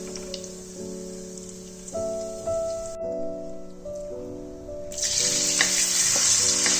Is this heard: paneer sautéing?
yes